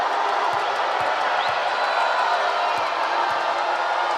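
A Hong Kong basketball arena crowd at the ABL Finals, Singapore Slingers versus Hong Kong Eastern, cheering and roaring as a steady dense wash of noise, with a few sharp low thumps and a commentator talking faintly underneath.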